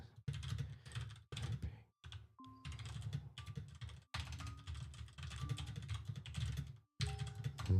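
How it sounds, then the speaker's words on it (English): Someone types on a computer keyboard, with quick bursts of crisp clicking keystrokes broken by short pauses, close and fairly quiet, with no talking. "let's do a little bit of typing."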